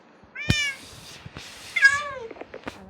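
A cat meows several times in close succession, loud and nearby, with drawn-out rising and falling calls over a quiet background.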